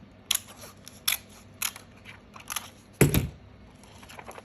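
Scissors snipping through paper while decorating an envelope, a series of sharp close crisp cuts spaced about a second apart, with one heavier crunching cut near the end.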